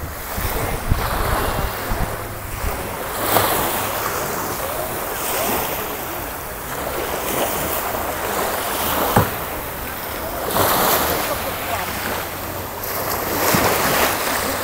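Sea waves wash steadily onto a hotel beach at Sharm El Sheikh on the Red Sea, with the surf rolling in repeated surges amid gusty wind buffeting the microphone and no voices.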